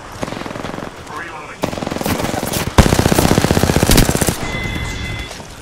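Automatic weapon fire in Apex Legends crackles in rapid bursts, with louder sustained volleys in the second half, layered over game effects and callout voices.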